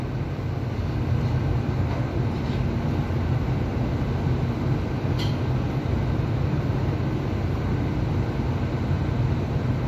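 A CPTM series 8500 commuter train sits at a Line 9 Esmeralda platform, its steady low rumble and ventilation hum filling the space evenly, close and continuous, with no voices.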